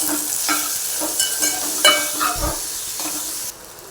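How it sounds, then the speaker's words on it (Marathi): Tomatoes, salt and ginger-garlic paste sauté in oil for a spicy veg pulao, a loud close sizzle broken by rhythmic stirring strokes that stops abruptly near the end. "टॉमॅटो आणि मीठ हे घालून घेऊया नंतर परतूया"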